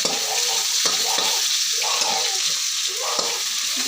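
Chopped bottle gourd sautés in hot oil, loud continuous sizzling broken by quick scraping stirs of a ladle across the pan, close and busy throughout.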